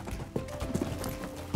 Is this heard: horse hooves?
yes